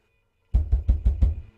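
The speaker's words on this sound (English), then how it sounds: "as she lifted the latch as quietly as she could, we heard a banging on the front door." Five heavy bangs on a front door, evenly spaced and loud, sounding close after a moment of near silence.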